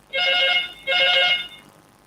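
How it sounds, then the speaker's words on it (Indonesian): A telephone rings for an incoming call, giving two clear electronic ring bursts in a row, close and alone, with a quiet room after them. "sebentar ada telepon masuk"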